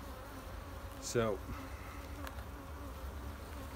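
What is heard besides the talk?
honey bees buzzing on hive frames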